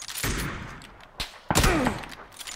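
Gunfire in the PUBG video game, a loud burst of rapid shots followed by a single crack and then another heavy volley, with a brief voice in between.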